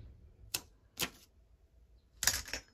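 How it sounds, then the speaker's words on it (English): A large hole punch bites through paper during collage crafting: three sharp, close clacks spaced about half a second to over a second apart, with the last one slightly doubled, in a quiet room with no talk. "I brought in this hole punch because it's bigger."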